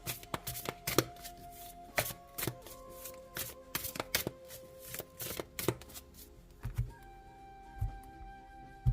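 Tarot cards being shuffled by hand in quick repeated riffles and taps, close and fairly quiet, with no voice over them.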